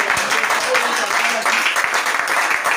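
A church congregation applauds, with a dense and fairly loud burst of clapping that continues throughout while voices cheer and call out over it.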